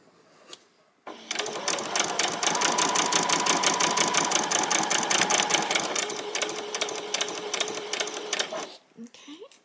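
A sewing machine runs in one long continuous stitching pass up the edge of the front of a pair of ruffled bottom shorts, close and steady, with quiet talk before and after.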